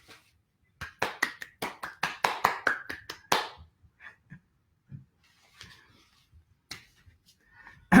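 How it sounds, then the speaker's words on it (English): A small group claps sparsely for an introduced guest, a quick burst of close, irregular hand claps that fades into a few scattered taps and faint breathing. "Please give him a round of applause."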